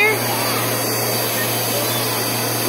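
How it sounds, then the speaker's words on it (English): A household vacuum cleaner runs loudly and steadily up close, a constant broadband roar with a low hum, and voices are faintly heard underneath. "You gotta vacuum."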